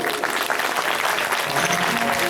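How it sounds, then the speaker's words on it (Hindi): Audience at a Bhagwat Katha religious gathering applauding Dr PS Mann, dense, loud clapping sustained throughout. "डॉक्टर PS मान जी के लिए ताली बजाइए"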